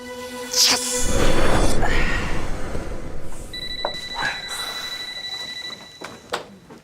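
A telephone rings in a hotel setting, with a loud tonal ring near the start over a wash of background noise, then a second, steadier ring pattern in the middle before fading into quieter rustles; no one speaks.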